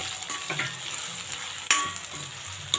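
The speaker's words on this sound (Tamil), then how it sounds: "நம்ம கட் பண்ணி வச்சுருக்க சின்ன வெங்காயத்தை போட்டுடலாம்" Small onions, some whole and some chopped, sizzle in oil for an eggplant curry, a steady close hiss with scraping stirs and a sharp clatter near the end.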